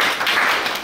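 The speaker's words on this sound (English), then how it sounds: "So give applause to Hamza for this." Short, dense round of audience clapping for a person named Hamza, a close, even patter of many hands lasting under a second, with no talking.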